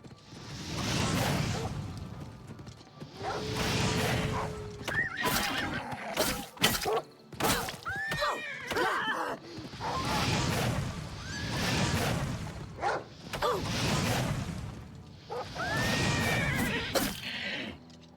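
A horse in the video game The Elder Scrolls IV: Oblivion Remastered whinnies and neighs repeatedly amid game combat swooshes and hoof clatter, several loud bursts spread across the span.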